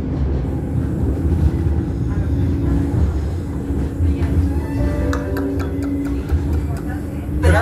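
Tram running through Valencia, a steady low rumble of wheels and motor with faint squeals and clicks from the track, heard from inside the car while people talk nearby.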